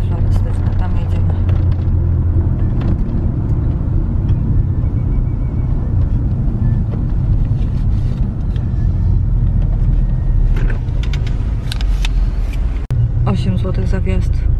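A car drives along a road on the way to a flower and florist-supplies market in Bronisze, its engine and tyre rumble steady and close throughout, with a brief sharp knock near the end.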